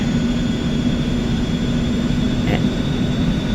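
A small airplane on an Alaska trip taxis toward the start of a runway before takeoff, its engine giving a loud, steady drone and hum from up close, with no change in pitch throughout.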